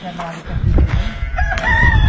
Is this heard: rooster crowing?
yes